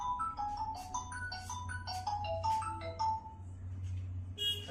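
A mobile phone ringtone plays a bright melodic tune of repeated rising and falling notes for an incoming call, loud and close, with no talk.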